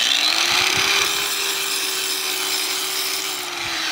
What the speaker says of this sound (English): I'm actually going to use the grinder now.